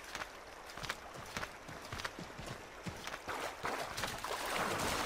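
Horse hooves clip-clopping on the ground in the video game Assassin's Creed III, a steady uneven run of hoofbeats over background noise, with occasional splashing like water nearby.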